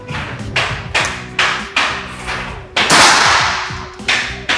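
Five or so sharp cracking air rifle shots from a Predator 500cc ring out one after another at irregular intervals in an accuracy test, loud and close, each with a short decaying tail.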